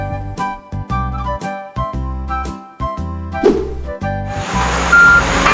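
A garbage truck reversing, its loud regular backup beeps repeating about once a second, followed by a burst of hissing air brakes and engine noise.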